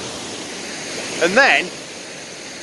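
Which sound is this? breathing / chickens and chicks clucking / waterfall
waterfall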